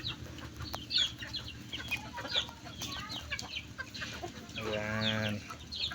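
Chickens on a farm cluck in short scattered calls, close by, with a louder drawn-out call near the end, against a low background rumble.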